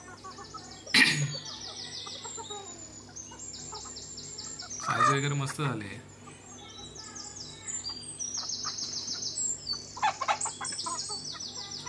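Six-month-old free-range village hens eat scattered rice and wheat on a poultry farm in Antravali-Sangameshwar, Ratnagiri, giving intermittent nearby clucks and chirping calls, with a person speaking briefly.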